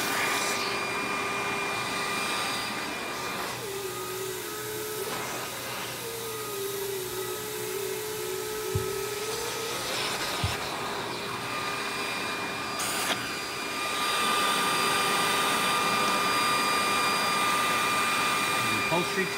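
A Rainbow E2 single-speed canister vacuum cleaner runs steadily with its dusting brush attached, a constant loud whine and rushing airflow that shifts in pitch as the brush moves and swells louder near the end.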